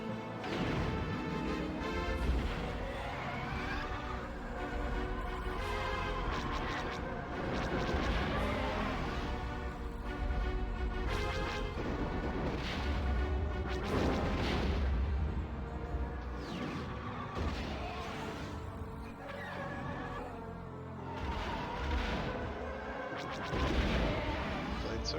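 Blaster cannon fire in the Rogue Squadron space combat game, a dense run of loud repeated bursts and crashes layered over engine roar and a music score, continuous across the whole stretch.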